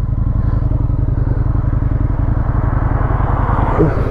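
A motorcycle rides on quiet country roads in Aberdeenshire, its engine a loud, steady, close drone with continuous pulsing throughout.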